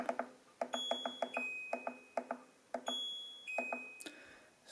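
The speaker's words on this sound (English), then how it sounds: "So press the temp button." A Brew Devil brewing controller gives a series of short electronic beeps as its temperature button is pressed, quick regular pips with a couple of longer steady tones, close and fairly quiet.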